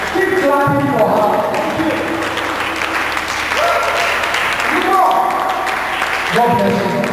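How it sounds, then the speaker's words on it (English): Sustained audience clapping at the Vibrant Leaders Conference 2016, a loud continuous crowd of hands filling the hall while a voice speaks over it. "Keep clapping for her."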